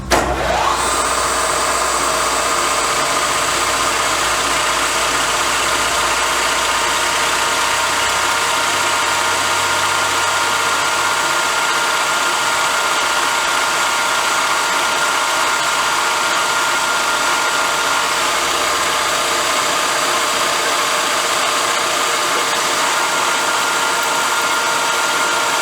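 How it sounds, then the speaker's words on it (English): A power drill bores a pilot hole in a workshop, a loud, steady mechanical whine that starts abruptly and holds at an even pitch for a long continuous run. "I'll just drill one hole."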